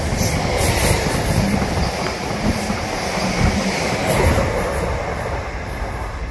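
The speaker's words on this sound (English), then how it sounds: "This is the train you need to get on?" A train rumbles past close by at Shenfield station during evening peak, a heavy steady roar with metallic clatter and faint high squeals from the wheels, no voices.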